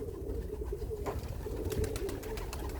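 Pigeons coo softly inside a loft of light-colored birds, their low, rolling calls repeating faintly against quiet background noise, with no talking.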